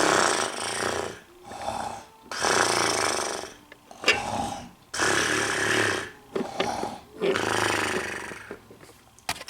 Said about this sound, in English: Rusty was snoring.